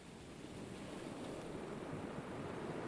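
Ocean waves and surf wash in a steady, continuous roar at moderate distance, with a broad hiss of water and some wind noise, no voices present.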